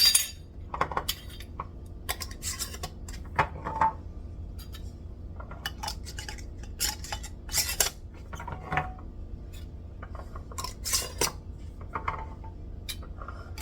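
Metal rings screwed onto glass canning jars of beans, giving irregular close clinks, scrapes and taps of metal on glass with no talking.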